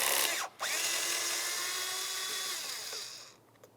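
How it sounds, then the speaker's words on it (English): A power driver removing T20 screws from the mass airflow sensor housing of a 2003-2011 Mercury Grand Marquis, heard as a loud, close whine with a brief dip, then a long steady whir that fades at the end. "Now we can move along to removing our two T20 screws that hold the mass airflow sensor to the air filter"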